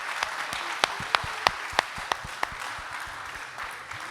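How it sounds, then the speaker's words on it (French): Audience applause follows an activity at a peace-building workshop, a moderate wash of clapping with several louder distinct claps standing out early, then thinning as it fades over about four seconds. "si on peut juste applaudir à tout le monde pour cette activité"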